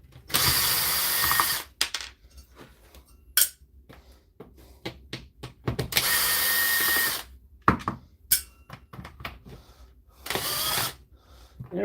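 A ratchet wrench loosens bolts during a live repair session, sounding in repeated close, loud bursts of rapid clicking separated by short pauses and scattered metallic knocks.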